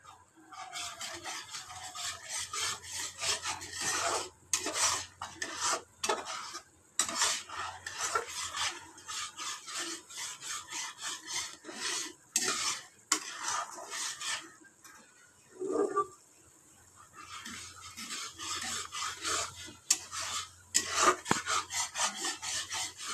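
Spoon stirring salt, turmeric and spices in a karahi while cooking a vegetarian bottle gourd and potato curry, repeated scraping and rubbing strokes in uneven bursts with short pauses, close and fairly quiet.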